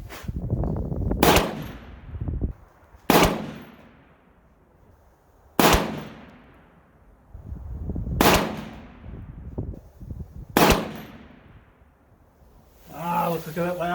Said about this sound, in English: I'm shooting these all the way through, no breaks